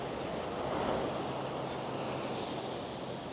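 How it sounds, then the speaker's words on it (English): Ocean surf rolls onto the shore at Carolina Beach on a calm morning, a steady broad wash of breaking waves with some wind noise, continuous and fairly close, no voices. "let's go on over that way and check the ocean out real quick and look at the beach"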